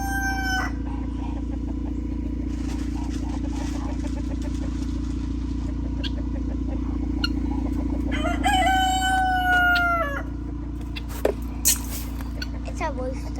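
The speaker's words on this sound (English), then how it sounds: "It's a rooster up there." A rooster crows on a homestead farm, one long rising crow over a steady low hum while people talk nearby.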